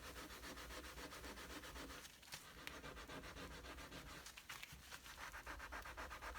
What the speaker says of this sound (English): what you want to do is scrub really hard and really fast